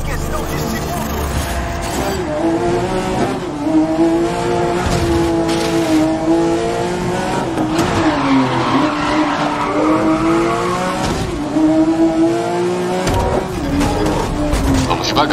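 Race cars at the start of a race in the racing game GRID, a loud sustained engine drone with shifting pitch, squealing tires and skidding, while someone talks over it.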